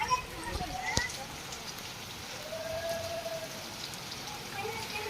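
Rain falling outdoors, a steady dense patter and hiss on surfaces, continuous at moderate level with faint background voices and a few brief higher tones.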